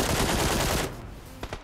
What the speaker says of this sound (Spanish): Me están disparando de la derecha.